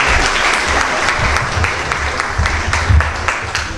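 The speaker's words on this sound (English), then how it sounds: "Another hand of applause to our Vice Chancellor." A graduation oath ceremony for medical students at Mbarara University draws a burst of audience applause. Many hands clap loudly and steadily throughout, forming a dense, continuous crowd sound.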